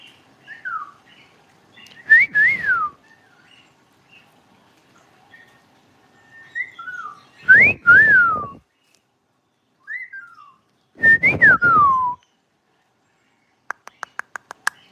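Cody, a pet bird, gives several loud, close whistled calls, each a quick rising and falling phrase repeated in bursts with pauses between, followed by a few faint clicks at the end.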